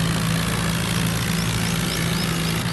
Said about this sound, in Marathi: बघू शकता दोन्ही ट्रॅक्टर चालू झालेत आता वाढायला